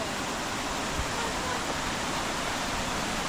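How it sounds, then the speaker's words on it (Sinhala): A small waterfall at Upper Nihotupu Dam in New Zealand gives a steady, even rush of falling water, a constant broadband hiss with no breaks, heard up close. "ඔන්න මෙතනින් පොඩි වෝටර්ෆෝල් එකක් පේනවා අපට"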